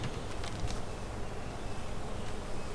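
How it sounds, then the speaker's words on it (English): Honeybees hum steadily around an open hive being smoked during an inspection outdoors, a soft, even, continuous drone with light wind rustle and no talking. "We're just smoking the top of the bees."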